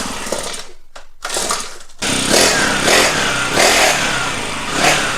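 A petrol engine on a kids' bike is started with a pull rope: a couple of short tugs and sputters, a brief pause, then the engine catches and runs loudly nearby with a rough, buzzing idle and small surges.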